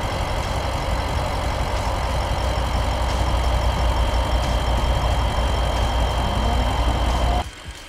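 Steady low idle of a 2017 BMW 650i xDrive's 4.4-liter V8, a constant close rumble with a faint hum above it, holding evenly before cutting off abruptly near the end.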